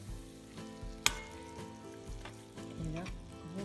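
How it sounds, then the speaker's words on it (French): Chopped cluster tomatoes go into a hot frying pan set over medium heat, producing a steady sizzle broken by a sharp clink near the start and soft stirring scrapes throughout. "Allez, j'ajoute ça dans ma poêle."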